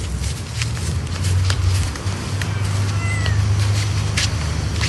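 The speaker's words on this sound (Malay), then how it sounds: "Kucing nak tengok tak?" A cat meows at a site in Malaysia, with faint mewing sounds over steady low background noise. Scattered clicks and rustles run throughout.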